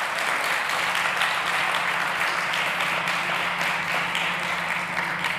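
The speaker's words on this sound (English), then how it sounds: "Ladies and gents, a big round of applause for Danny Olmedo from Enware." Steady audience applause for a startup pitch presenter on a summit stage, dense and continuous throughout with a faint low hum underneath and no voices.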